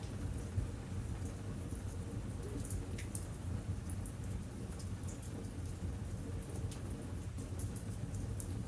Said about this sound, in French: vous entendez les premières gouttes de pluie tomber dehors.